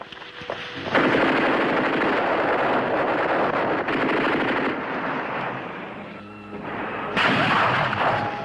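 Sustained bursts of machine-gun fire from a film, loud and dense with rapid rattling volleys, a brief lull near the end before another heavy burst erupts; no talk over it.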